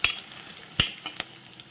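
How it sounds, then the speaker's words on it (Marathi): Curry leaves, garlic and cumin frying in a pan, a low sizzle broken by a few sharp scraping or clinking stirring strokes at irregular intervals. "कढीपत्ता लसूण कढीपत्ता लसूण जिरे छान फ्राय करायचे"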